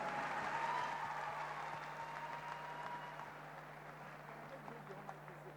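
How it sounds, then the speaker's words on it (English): Audience applause at a youth-focused global convening as a speaker is welcomed to the stage, a broad wash of clapping that starts fairly full and slowly thins and fades, heard at a modest distance. "Please welcome him with a huge round of applause."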